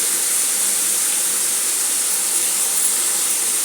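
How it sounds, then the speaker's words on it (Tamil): Green chilies and tomatoes with onions sizzle steadily in a pan as they are sautéed for a brinjal and drumstick tamarind curry, a dense, even hiss running close and unbroken with no voices. "ஒன்றா சேர்த்து நல்லா வதக்கி விட்டுடலாம்."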